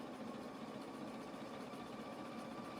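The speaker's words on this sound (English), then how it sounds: "I'm triple stitching." Sewing machine running steadily as it triple stitches a denim skirt, a continuous quiet mechanical whir with a fast, even pulsing rhythm throughout.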